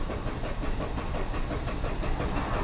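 2007 Chrysler Sebring with no fuel pressure briefly running on leftover fumes, a close, steady, rough mechanical engine rumble that continues unbroken without voices.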